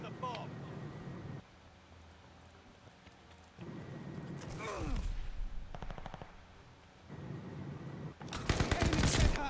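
Bursts of gunfire in an online multiplayer shooter match, sharp and close, rattling out in clusters between quieter gaps, with players talking over the action.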